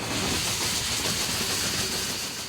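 A steam train running along the line, its steady broadband hiss and rumble filling the space with a faint clickety-clack of rolling wheels underneath, continuous and close throughout.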